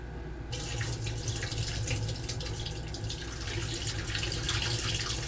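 Cool tap water running over raisins being washed in a sink, a soft, steady splashing stream that continues without pause and with no voices.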